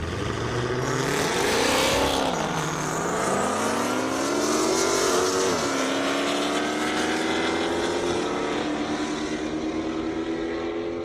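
Purple drag race car at an airstrip drag racing event, a loud, close, sustained engine roar with rising revs that swell and shift pitch as it accelerates, running alone without talk.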